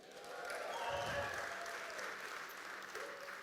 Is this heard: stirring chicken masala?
no